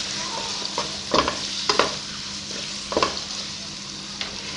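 Red and green bell pepper cubes fry over medium heat in a pan, a steady sizzle broken by several sharp spatula scrapes and clacks.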